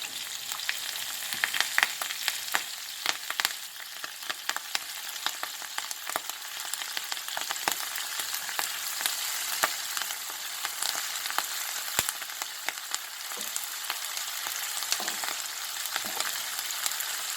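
Kale sizzling and frying in an Indian-style pan with garlic and curry leaves, a steady dense crackle with occasional sharper pops and stirring, close and continuous throughout.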